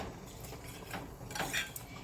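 Metal utensils clink and scrape against a bowl while stirring a raw tomato spaghetti sauce, a short close-up run of light knocks and scraping.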